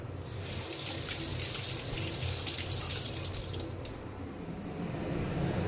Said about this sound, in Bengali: তো চলো আমি একটু হাতটা ধুয়ে নিই।